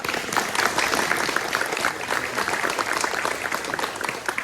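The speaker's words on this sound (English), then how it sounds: "I know you're probably not supposed to applaud prayers and stuff" Applause from a crowd at a memorial service right after a prayer, a dense, steady clapping that fills the room and holds at a loud level throughout with no voices over it.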